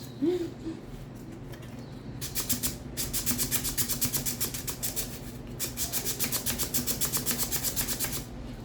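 Sandpaper rubs by hand inside an MDF box, a close, steady rasping in quick repeated strokes that runs for several seconds after a quieter start.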